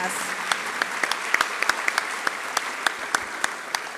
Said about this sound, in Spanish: Estas palmas son para ustedes. Palmas.